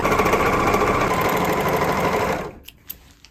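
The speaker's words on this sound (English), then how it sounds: "I just have to serge all the interior seams." A serger overlocks the interior seams of a shirt, a steady loud mechanical whir running for over two seconds before stopping abruptly, followed by a couple of small clicks.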